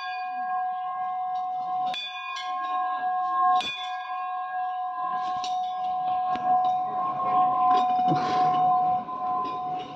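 A Shiva temple bell rings with a sustained metallic tone, struck repeatedly with sharp clangs and clinks, close and fairly loud, with no speech.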